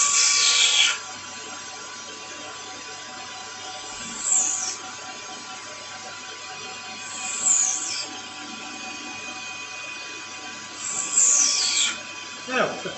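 A lathe takes small in-and-out cuts on a bushing. A quiet, steady motor hum runs throughout, broken by four brief, sharp, high cutting squeals spaced a few seconds apart.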